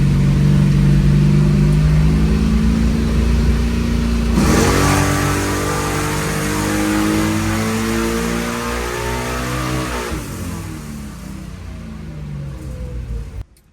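A 1969 Camaro with a 396 big block engine revs on a dyno, a loud close roar rising and falling, climbing to roughly half throttle before easing back down, with no talking.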